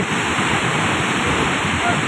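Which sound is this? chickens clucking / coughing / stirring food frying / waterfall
waterfall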